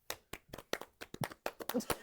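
A few people clap in a small podcast studio, a quick run of sharp, dry hand claps close to the microphone, uneven in rhythm and ending after about two seconds.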